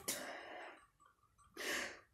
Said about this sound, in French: Ah, je vais éternuer, bizarre.